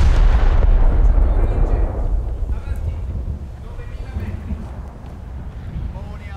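Heavy naval gunfire from an Italian premium dreadnought battleship in War Thunder: a loud low boom opens, then rumbling reverberation and wind-like roar fade away over several seconds.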